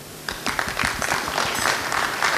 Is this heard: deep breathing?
no